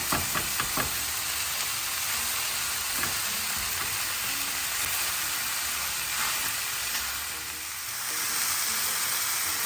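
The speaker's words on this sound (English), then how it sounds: "Making sure your meat gets good and chopped up down here as it's stirring." Meat and cabbage frying in a pan for lumpia, a loud steady sizzle with a few knocks of the stirring utensil early on, heard alone without talk.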